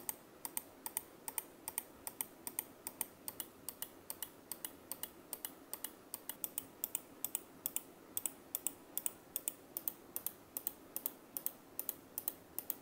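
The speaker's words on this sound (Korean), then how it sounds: "클릭음도 들어보면 지슈라 2 덱스 쪽이 좀 더 경쾌한 소리를 들려주는 것을 알 수 있습니다" Clicks from a Logitech PRO X Superlight 2 DEX mouse with optical-mechanical hybrid LightForce switches: crisp, light, evenly paced clicks, several per second, faint and close against a quiet background.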